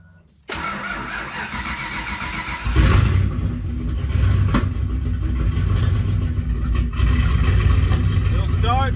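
A Fox Body Mustang's turbocharged 302 V8 cranks and fires up after sitting for a week, then settles into a loud, rough, steady idle that rises as it catches, with a few sharp clatters over the rumble.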